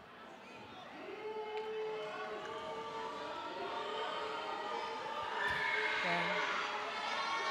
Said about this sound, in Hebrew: קהל של חיפה לא אוהב את זה, בסדר, זכותו, קהל ביתי